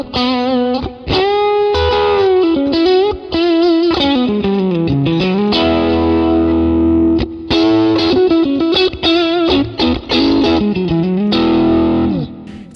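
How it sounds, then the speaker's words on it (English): An electric guitar runs through an amp's overdrive channel with the gain nudged up, playing loud, continuous distorted chords and sustained notes with short gaps, no talking. "I'm even going to turn that gain up just a hair."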